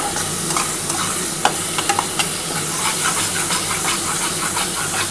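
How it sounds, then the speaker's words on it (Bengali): Spice and cashew-yogurt paste for a wedding-style dahi katla fish curry being stirred in a hot pan, a steady sizzle and hiss with scattered scraping and clinking of the spoon, no talk. "তার জন্য একটু নাড়াচাড়া করতে হবে।"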